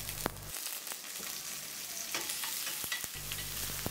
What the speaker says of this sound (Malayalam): ഇതെല്ലാം കൂടെ 1 മിനിറ്റ് ഒന്ന് വഴറ്റണം